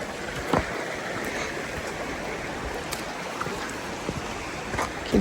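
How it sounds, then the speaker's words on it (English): Water trickles and burbles steadily in a mountain stream at Promised Land State Park in the Poconos, at a soft, moderate distance, with a few faint knocks and splashes scattered through the constant flow. "can hear some water trickling up here somewhere, but I can't quite see it"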